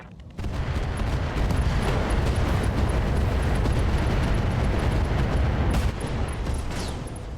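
Battle mechs firing weapons amid explosions in the RogueTech game, a dense, continuous roar of booming gunfire and blasts that starts abruptly and stays loud throughout with no talking.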